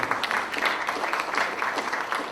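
An audience at a Democratic Party local government leaders' training event claps for a speaker, a brief, steady burst of many hands applauding together at moderate distance.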